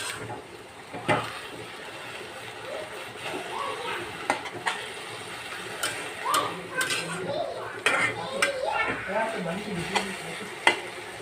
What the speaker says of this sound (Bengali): ঢাকাটা উঠিয়ে দেখি কেমন হয়েছে শাকটা একটু নাড়া দিয়ে দিই